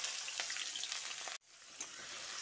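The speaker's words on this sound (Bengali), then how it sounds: "পেঁয়াজটা দিয়ে একটু গোল্ডেন করে ভেজে নিতে হবে।" Chopped onions fry in hot oil in a pan, giving a steady broadband sizzle that drops out abruptly for a moment midway, then resumes with a brief stirring clatter, close and loud with no talking.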